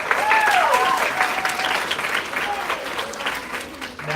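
A senate meeting bursts into a round of applause after a motion passes, loud clapping at first that gradually thins, with voices talking over it.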